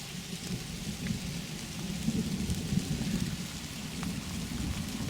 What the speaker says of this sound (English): Probably hear by the grumbling of the thunder. The old storm is right above us now.